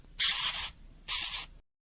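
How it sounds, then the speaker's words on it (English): Two short hissy squeaks from a hamster, separated by a brief pause, clear and close with silence after. "Hamster."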